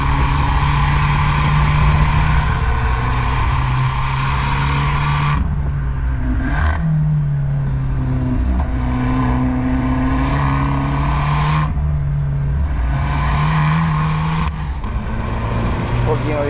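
Abarth car engine accelerating hard through the gears with turbo lag and early upshifts, rising revs cut by several shift breaks, loud and close with someone talking over it.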